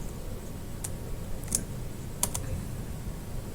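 A few sharp, isolated keyboard key clicks on a computer, sparse and irregular over a steady low room hum.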